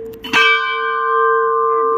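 A temple bell at the Urvashi and Nanda Devi shrine in Bamni village near Badrinath is struck once, giving a loud, clear clang that rings on in a long, steady, shimmering tone.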